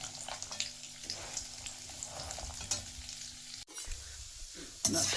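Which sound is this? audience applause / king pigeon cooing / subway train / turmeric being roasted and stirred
turmeric being roasted and stirred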